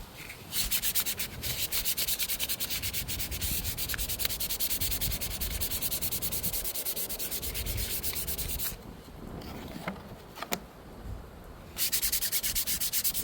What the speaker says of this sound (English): now, as I mentioned to you guys, I'm gonna sand it and then apply another coat.